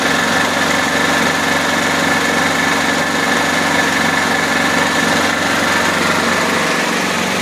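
A generator engine running on gas hums steadily and loudly throughout, with an even mechanical drone and light vibration and no talking.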